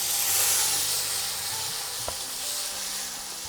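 Dried chillies, a bay leaf, whole garam masala spices and tomato paste frying in hot oil, a steady close sizzle and hiss with a faint clink partway through.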